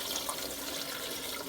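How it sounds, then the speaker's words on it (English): Water pours steadily into a tamale steamer pot, a soft, continuous splashing that stays faint and close throughout the short moment, with no talking. "And you want to add enough water that you're not going to run out."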